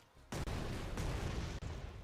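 Explosions in the video game Stellar Blade, played on PC: a dense, loud burst of booming blasts that starts abruptly and rolls on with a couple of sharp new hits, no talk over it.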